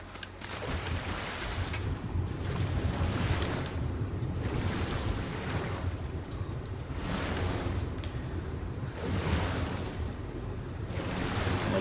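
Water sloshing and splashing in waves while swimming through water in the video game Ark Survival Evolved, a steady, fairly loud wash with periodic surges and no talking.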